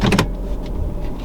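On a $500 Mercedes AMG, a power window motor gives a short whirring burst up close, followed by a low, steady hum from the car's interior.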